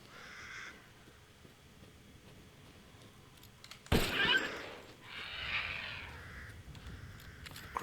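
Crows cawing in the Village of Shadows video game, a loud harsh burst near the middle followed by further raspy calls over a low ambient game background.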